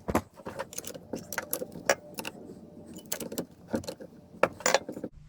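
A chainsaw chain being tightened by hand before tree cutting, giving a run of irregular metallic clinks and rattles with scraping, close up and in short bursts, and no talk.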